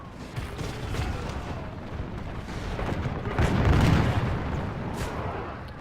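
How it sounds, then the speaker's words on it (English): Musket volleys from soldiers in Medieval II: Total War, rendered as a rumbling mass of distant shots and crackling pops that swells louder midway, then eases, with no voices. "2 or 3 guys shot back."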